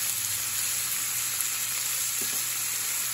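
Shrimp sizzle steadily in a hot pan, a dense, constant frying hiss close by, with faint scrapes and taps as pieces are turned over.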